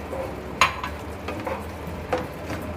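A spoon stirs yogurt into an onion and tomato masala in a pan over low gas, with soft scraping strokes, a few sharp clinks against the pan and a faint sizzle underneath.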